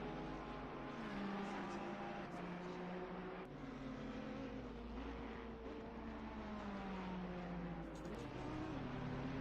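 GT3 and GT4 race cars, including a Ferrari, lap Oulton Park, engines droning steadily with rising and falling pitch as cars pass, while a commentator talks over the continuous motor noise.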